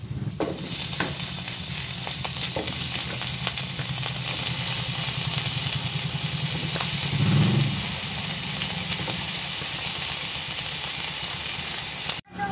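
Vegetables and mushrooms sizzle and crackle steadily in a frying pan, a loud continuous hiss with occasional stirring clatter, ending in a brief cutoff.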